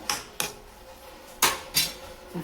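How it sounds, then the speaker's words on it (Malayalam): A metal lid goes onto a pot of homemade mushroom curry with several sharp clanks and rattles. Two quick knocks are followed by two louder clatters and a softer tap near the end, with no talking. "നമുക്കിത് മൂടി വെക്കാം, വേവട്ടെ കേട്ടോ."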